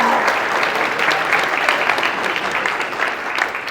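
An audience at a strength and conditioning clinic applauds a presenter, with steady, dense clapping that holds for a few seconds and then thins out.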